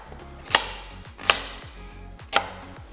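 A knife chops vegetables into chunks on a cutting board for albondigas meatball soup, three sharp, close cuts spaced apart over a low background hum.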